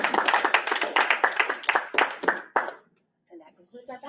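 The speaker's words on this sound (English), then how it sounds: "Let's give the officer a round of applause." A small crowd at a board election ballot drawing claps for an officer, a dense burst of handclaps lasting a few seconds before dying out, followed by faint talk.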